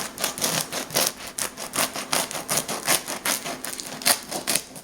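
A knife saws back and forth through a crusty home-baked bread loaf, giving steady rhythmic crackling, rasping strokes close up with no talking.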